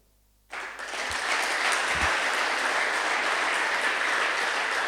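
A church congregation bursts into sustained applause during a sermon, steady crowd clapping after a short quiet start, with a couple of low thumps.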